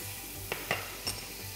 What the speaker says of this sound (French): je vais mettre mon beurre à fondre